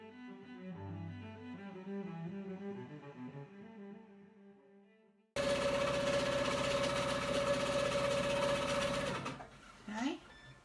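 A sewing machine free-motion stipples a shadow trapunto quilt, giving a steady, fast, loud mechanical whir for about four seconds. A stretch of tonal music comes before it, and the machine stops abruptly with a faint handling sound after.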